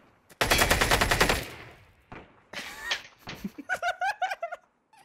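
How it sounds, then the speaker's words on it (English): Gunfire from the online shooter game Ring of Elysium comes as a loud burst of rapid automatic shots, then scattered single shots and a short rattling volley. Voices come in briefly between the shots. "He's shooting him!"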